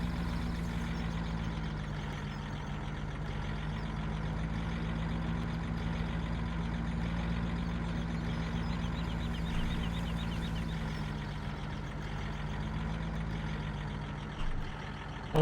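Trucks driving in Farming Simulator 17, a steady low engine drone with a rumbling hum running continuously and fairly loud throughout, without talk.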